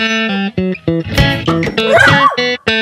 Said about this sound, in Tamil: லொல்லொல் நாயே